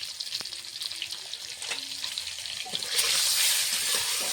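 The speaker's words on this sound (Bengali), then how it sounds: "কড়াইতে আমি ডিম ভাজার জন্য সরষের তেল দিয়ে দিয়েছি। ডিমটা সিদ্ধ করা ডিমটা ভেজে নেব।" A boiled egg seasoned with salt and turmeric fries in mustard oil in a wok, sizzling gently at first, then swelling into a louder, hissing crackle in the last second or so.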